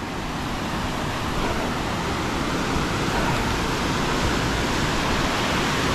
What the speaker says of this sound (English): So there's a waterfall that cascades down, splits off, joins this, crashes down.